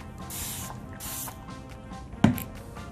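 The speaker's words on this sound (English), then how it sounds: "It's my continuous spray." Two long hissing bursts from a continuous spray bottle, close up, followed by a sharp click and quiet handling.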